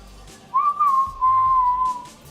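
A person whistles a short, wavering tune of two sustained phrases, rising and sliding, close and fairly loud, with no talking over it.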